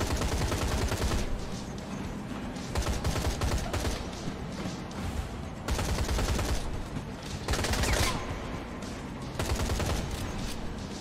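Heavy, continuous automatic gunfire in the VR shooter Atomic Heart, rapid bursts stacked close together for the whole stretch, loud and near with occasional slight pauses between volleys.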